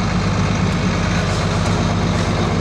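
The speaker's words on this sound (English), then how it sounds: "Tractor's moving" A John Deere 4640 tractor engine running nearby, a loud, steady low diesel rumble that stays constant throughout.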